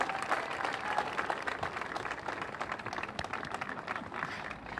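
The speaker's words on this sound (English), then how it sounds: "So I want you to give a really big round of applause to Joaquin Torres of the Mayor's Office of Economic and Workforce Development" An audience at a neon sign revival event at the Avenue Theater in Portola gives a warm round of applause, steady crisp clapping from a modest crowd at moderate distance, fading slightly toward the end.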